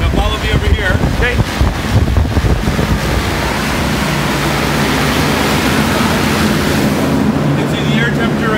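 A big fan pulls air with strong suction, making a loud, steady, wind-like roar close to the microphone throughout.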